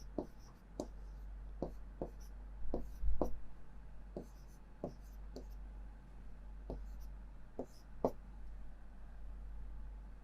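Chalk or marker strokes on a board as math is written, a steady series of short sharp taps and scratches spaced through the clip over a low room hum.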